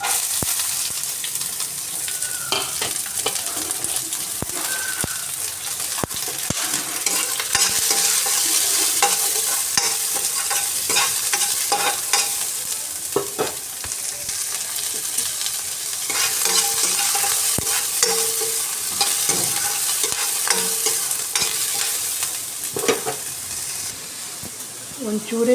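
Mustard seeds splutter in hot oil with onion, dried chili and curry leaves, a long steady sizzle scattered with sharp crackles and pops, with stirring and utensil clinks and occasional talk alongside.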